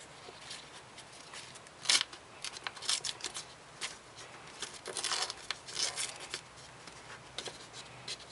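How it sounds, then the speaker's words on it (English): An envelope of Laststicker stickers is torn and opened by hand, giving a run of soft, close paper rustles and crinkles with a few sharper rips, fairly quiet throughout. "today my brother is going to be opening this envelope of stickers"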